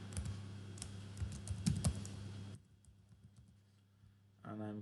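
Someone types a password on a computer keyboard, giving a quick run of close key clicks with faint background hum, then a brief pause before a voice speaks at the end.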